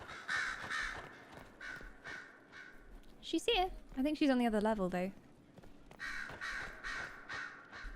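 Crows cawing in the video game Dragon Age: Inquisition, a cluster of loud, harsh caws in the middle, with a person talking before and after them.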